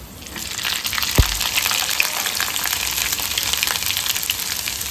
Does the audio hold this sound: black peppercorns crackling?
yes